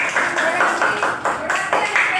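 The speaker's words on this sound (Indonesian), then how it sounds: "Tepuk tangan." Children clap their hands together in a classroom, a short burst of brisk, rhythmic claps up close, with a few louder accents and no talk over it.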